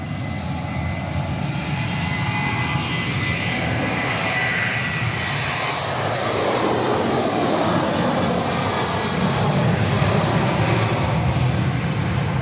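A fixed-wing aircraft lands on runway 31 left at Dallas Love Field in the evening, its engine roar broad and steady throughout, swelling slightly louder toward the end.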